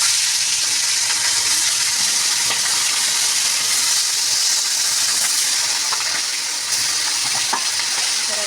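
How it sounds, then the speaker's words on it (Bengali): Steady, loud sizzling of bata fish heads frying in hot oil, a dense crackling hiss throughout with occasional sharper pops and no talking. "এবার মাথাগুলো ভাজা হোক"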